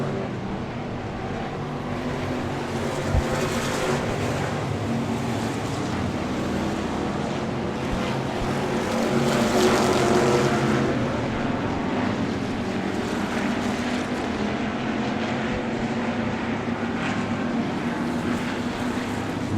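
Dirt track race cars roar around a speedway in Manitoba, Canada, a distant, continuous engine drone that swells in the middle as the field passes, mixed with wind.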